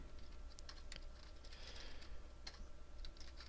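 Typing on a computer keyboard, quick light key clicks in uneven bursts over a steady electrical hum, faint and close with no talking.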